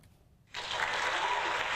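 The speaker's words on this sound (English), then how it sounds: "we got an applause button. Here we go." After a brief quiet moment, a burst of applause starts suddenly and continues steadily, sounding like a played-back clapping effect.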